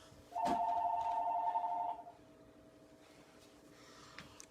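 A telephone rings once, a single sustained electronic tone lasting about a second and a half, loud and close, then fades into quiet room noise.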